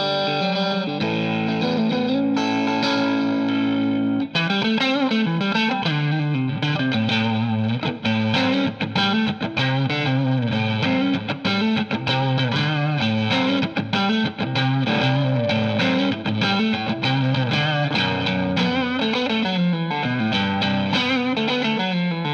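Electric guitar driven through a boosted Klon overdrive pedal, with a Keeley Katana boost in the chain, playing continuous distorted chords and riffs, loud and close with a thick midrange crunch and no talking.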